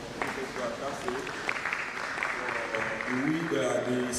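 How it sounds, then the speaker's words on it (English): Applause from an audience at a university international environmental sciences conference sounds as a moderate wash of clapping, with a voice speaking over it toward the end. "A round of applause for Professor Akase"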